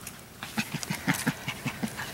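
Five-week-old Australian Labradoodle puppies whimper and pant in a close run of short, irregular squeaks and breathy pants, fairly near and moderately loud.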